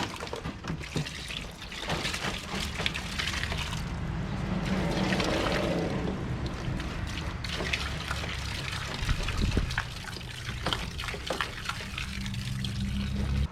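Old engine oil drains from a car's drain plug into a plastic container, a steady close liquid pour and trickle running continuously with slight surges.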